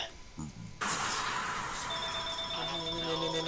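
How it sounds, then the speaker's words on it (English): Telephone bell ringing in a video game, a bright sustained ring that starts abruptly and continues loudly, with speech heard just before it begins. "That's a phone. Phone is ringing again."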